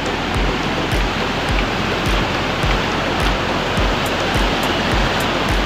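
A loud, steady roar of floodwater from heavy rain in Konkan, rushing over a bridge where two rivers meet, a continuous dense wash of noise with no pauses and no voices.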